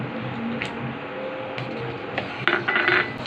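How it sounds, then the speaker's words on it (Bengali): A spoon stirs hot chocolate with crushed Oreo biscuits, cream and chocolate in a pan, giving a steady soft scraping hiss broken by a few light clinks against the metal. "ভালো করে নেড়ে নিচ্ছি"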